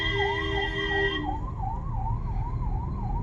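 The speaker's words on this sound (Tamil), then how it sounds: "இந்த பகுதி ஆம்புலன்ஸ் போகுது" An ambulance siren wails steadily in a busy market street in Paramakudi, loud and close, its rising and falling tone looping continuously over traffic rumble with no talk.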